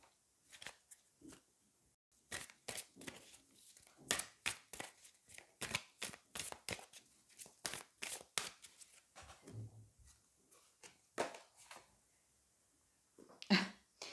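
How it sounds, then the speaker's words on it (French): Angel oracle cards are shuffled and one is drawn, giving a quiet run of crisp, rapid riffling snaps and flicks that comes in uneven bursts, close and soft, with no speech. "on va aller prendre une carte des anges"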